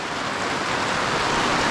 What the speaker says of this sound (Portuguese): Começou a chuva!